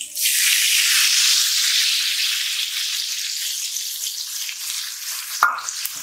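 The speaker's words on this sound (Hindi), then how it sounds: "अभी हम मसाला डाल रहे हैं।" Masala spices sizzle and fry loudly in a pan with browned ginger-garlic paste, a steady broadband crackle close to the mic, with a brief clank of a spoon near the end.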